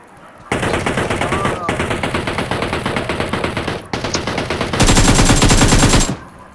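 Automatic gunfire in the mobile shooter PUBG Mobile rattles out in long, loud, rapid bursts with brief gaps between them, close and dominant, ending with a heavier sustained volley.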